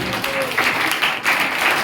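A church congregation at a missionary gathering claps in a dense, steady burst of applause that runs through the whole short stretch, with voices mixed in underneath.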